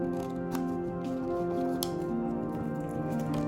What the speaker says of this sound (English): That will allow you to get your scissors inside and cut round the shape of the eyes.